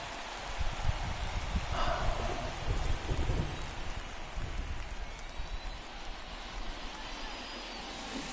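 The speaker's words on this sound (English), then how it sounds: "This rain is not letting up." Steady rain falls through a baseball game between the Guardians and another team, a dense continuous hiss with a low rumble that may be distant thunder, some faint voices mixed underneath.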